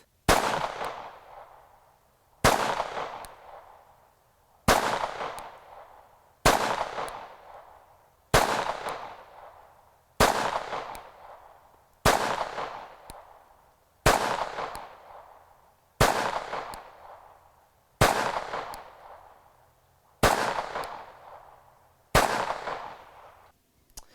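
A CZ82 pistol fires thirteen single shots at a steady pace about two seconds apart, each a sharp, loud crack with a short echoing tail.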